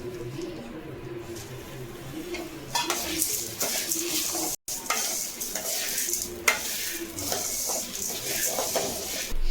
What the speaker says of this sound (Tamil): அதுக்கப்புறம் அலசி வச்ச கருவேப்பிலை இதில் போட்டு இதையும் சேர்த்து வறுத்துக்கலாம்